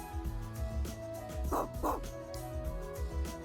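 Small dog in the visual novel LoveKami barking and yipping, two sharp close barks in the middle over looping background music, with softer whimpering yips around them; no one talks.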